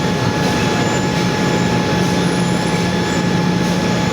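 An electric motor run by a variable frequency drive hums steadily as its speed is raised from 16 to 20, a constant close tonal whine over dense broadband noise with no pauses.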